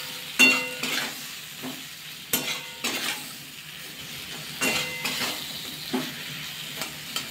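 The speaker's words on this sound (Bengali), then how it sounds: "আবার একটু নাড়াচাড়া করে নেব।" Sheem (Bengali flat beans) frying in a pan with salt and turmeric, stirred in several separate bursts of scraping and clatter over a steady soft sizzle, close and moderately loud, no voices.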